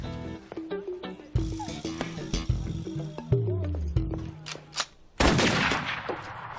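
Rifle gunshots crack out several times over a backdrop of music, with sharp isolated reports spread through the passage and a heavier, sustained blast near the end.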